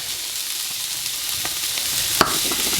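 Chopped carrot goes into a pan of softened vegetables, which fry with a steady close sizzle and crackle plus a brief sharp clatter of stirring, with no talk.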